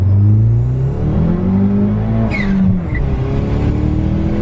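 A Peugeot 208 GT tuned to Stage 3 accelerates hard, its loud, close engine note rising through the revs, then easing off with a quick turbo flutter chirp before pulling again.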